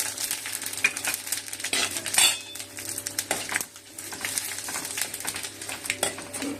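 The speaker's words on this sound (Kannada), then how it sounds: "ಒಂದು ಸ್ಪೂನ್ ಎಣ್ಣೆ ಹಾಕಿ ಆಲ್ರೆಡಿ ಕಾಯಕ್ಕಿಟ್ಟಿದ್ದೆ ನಾನು ಸಾಸಿವೆ ಜೀರಿಗೆ ಒಂದು ಸ್ವಲ್ಪ ಕಡಲೆಬೇಳೆ ಉದ್ದಿನ ಬೇಳೆ" Mustard seeds, cumin, chana dal and urad dal frying in a spoonful of hot oil for a tempering, with steady close crackling and sizzling and a few sharp pops and utensil clinks, no talk.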